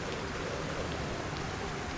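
Steady rain falling in a video game farm setting, a constant soft hiss of drops with no distinct pattern, filling the whole stretch at low level without talk.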